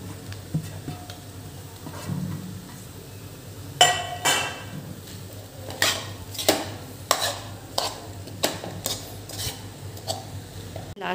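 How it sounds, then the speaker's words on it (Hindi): Spices being mixed into a boiled potato and pea filling in a metal pan, sharp clinking and scraping strokes of a spoon against the vessel at an irregular, repeated rhythm, close up and without talk. "अब इसको मसाले को अच्छी तरह से मिक्स करेंगे आलू के अंदर।"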